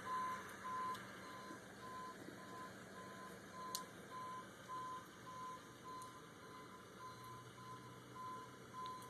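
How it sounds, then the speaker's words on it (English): A tow truck's reversing alarm sounds a steady series of evenly spaced beeps over a low engine rumble, moderately close, with no voices. "this is the tow truck that's going to help the other tow truck"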